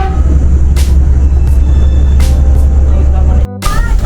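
An Indonesian commuter train runs with a loud, steady low rumble and hiss from inside the carriage, brief squeals and bursts rising over it, and a sudden short drop near the end. Voices are heard over the noise.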